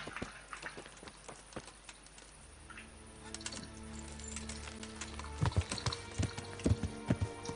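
Steady clip-clop of horse hooves at a trotting rhythm in the video game Kingdom Come: Deliverance, moderately close, with faint clicks in the background.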